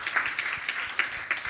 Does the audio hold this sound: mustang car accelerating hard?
no